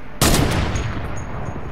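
A loud, close burst of automatic gunfire erupts suddenly in Fortnite after a short quiet moment, then a dense rattle of shots trails off over the rest of the moment.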